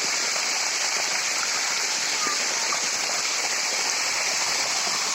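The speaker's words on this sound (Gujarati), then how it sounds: "આ રીતે અમે પાણી ચાલે રહ્યું છે" Irrigation water runs across farmland in a steady, continuous rushing wash that stays even and moderately loud throughout, with no breaks or voices.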